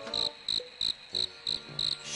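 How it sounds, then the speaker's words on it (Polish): Cricket chirps in a Scooby-Doo pyramid mystery video game, six evenly spaced bursts of trilling, steady and fairly close, with no talking over them. "Świerszcze?"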